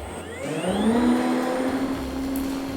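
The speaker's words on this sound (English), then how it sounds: "The best part about a battery operated machine is that you just grab it, push the start button, and go." A SnowJoe 24-volt battery-operated snowblower spins up with a rising electric whine that settles into a steady, loud motor hum, running alone without any talking.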